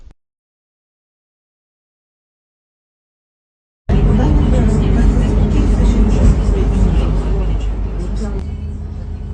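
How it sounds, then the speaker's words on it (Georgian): City bus traffic at a Prague bus stop starts after about four seconds of silence as a loud, close engine rumble of passing vehicles, with people talking over it. "ველოდებით 228 ნომერ ავტობუსს, რომელიც პირდაპირ მიგვიყვანს Fashion Arena-ზე."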